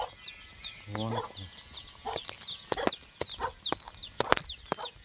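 Pet hens squabbling, one hen attacking another, with sharp squawks and a burst of rapid clucking, plus scattered pecks and scuffling taps against a faint outdoor background; someone speaks briefly.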